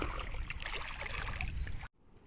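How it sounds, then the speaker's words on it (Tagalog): Steady broadband wash of sea water, like waves rolling nearby, fills the scene before cutting abruptly to a quieter, hollow background. "Naririnig na dito yung dagat. Yung alon."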